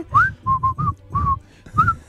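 A person whistles a short, halting tune of about seven clear notes with brief gaps between them, close and alone with no talking.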